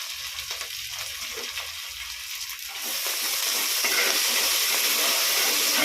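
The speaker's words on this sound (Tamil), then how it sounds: "பிரியாணிக்கு வெங்காயம் வதங்குது" Onions sautéing in a pan for mutton biryani, a steady sizzle that grows louder and denser partway through and then carries on evenly, close by with no voices.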